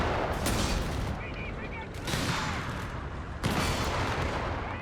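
Gunfire from friendly fire in the video game Company of Heroes 3, heard as dense, loud, crackling bursts of shots with booming impacts, with several sharp onsets over a continuous noisy battle din.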